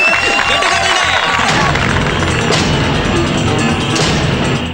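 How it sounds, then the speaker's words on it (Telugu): A classroom of students claps and cheers for their class representative, a loud, close, continuous roar of clapping mixed with shouting voices that fades at the very end. "క్లాస్ రెప్ ని అభినందిస్తూ చప్పట్లు వేసుకోండి"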